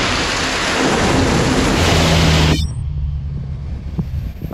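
Heavy tropical rain pours in northern Bali, a dense loud roar that cuts off abruptly to a softer patter with scattered drips, while a low thunder rumble runs underneath.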